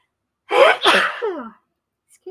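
A single loud, close sneeze bursts out during a live tarot reading stream, a sharp intake followed by an explosive release that trails off into quiet.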